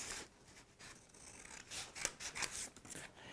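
Scissors cut through a folded paper sewing pattern along the neck curve and shoulder line, giving quiet, close, irregular snipping and rustling with soft paper scraping.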